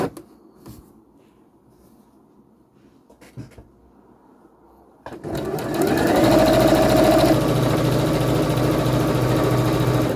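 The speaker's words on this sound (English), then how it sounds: "So I'm going to get all of these sewn together" After a few seconds of quiet handling clicks, a sewing machine starts up and runs steadily, a loud close mechanical whir stitching patchwork pieces cut from vintage floral sheets into a quilt.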